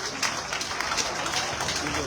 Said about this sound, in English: Clap for your leaders.